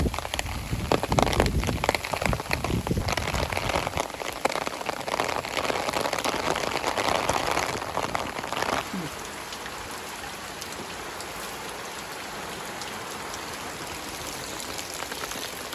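Steady heavy rain pours down at a Shinto shrine, a dense hiss of drops hitting surfaces, heavier at first and then easing to a softer, even patter.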